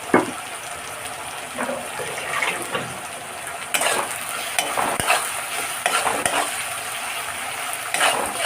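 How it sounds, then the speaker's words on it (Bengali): Onions fry in a pan while being stirred for a Bengali mutton kosha, a continuous sizzle broken by repeated scraping and clinking strokes of a spoon against the pan. "এবার পেঁয়াজটা একটু লাল লাল হয়ে নরম হয়ে যাক, ভাজা ভাজা হয়ে যাক"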